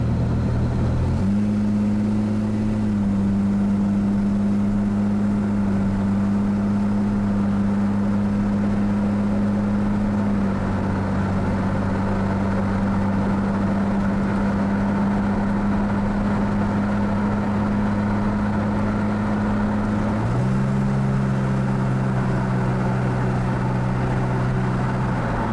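Engine of a Lamborghini replica car accelerating with an exhaust that has minor issues, a loud steady low drone holding one pitch, then stepping up at about twenty seconds and continuing close and alone.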